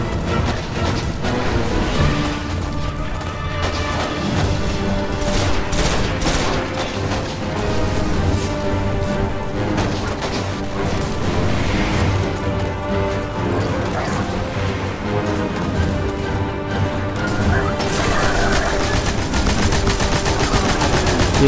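Rapid automatic gunfire and crashing impacts from a Destiny first-person shooter fill the whole stretch, loud and dense with repeated bursts, layered over game music and effects, with no talk.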